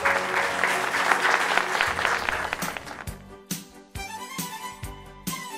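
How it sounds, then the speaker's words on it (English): Audience applause at a conference fills the hall with steady dense clapping that thins out toward the end, with a few last isolated claps. "I would like to invite the audience to join me again in a round of applause and appreciation"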